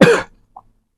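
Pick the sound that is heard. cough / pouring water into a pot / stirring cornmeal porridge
cough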